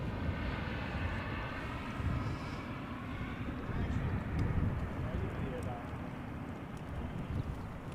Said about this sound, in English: Is that an Emirates A380?